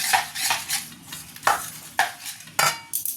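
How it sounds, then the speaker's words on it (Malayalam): Banana fritter batter being stirred in a bowl, a series of quick scraping strokes with clinks of utensil against the dish, close up and alone, in an uneven rhythm. "തരിയില്ലാതെ തന്നെ ഇളക്കിയെടുക്കുക"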